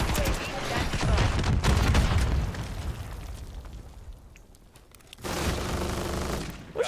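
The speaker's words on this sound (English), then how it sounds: "What's she shooting at me for?" Close bursts of rapid gunfire and explosions in a multiplayer shooter game come loud at first, fade into a quieter lull, then return in another dense burst.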